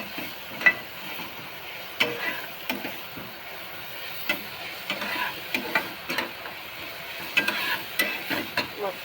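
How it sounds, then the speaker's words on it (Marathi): Onion and tomato fry in a pan for kande pohe, a soft background sizzle under clustered ticking spatula stirs and scrapes, close and intermittent, without any voices. "टोमॅटो टाकून घेतला, चांगला त्याला"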